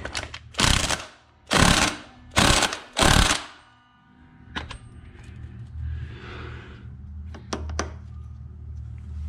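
An impact wrench fires four loud close bursts tightening a sprocket nut on a Yamaha Banshee, followed by quieter clicks and tool handling.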